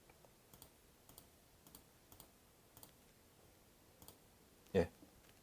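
A computer mouse clicking while a folder is selected, with faint, sparse clicks spaced about half a second apart and a louder click near the end.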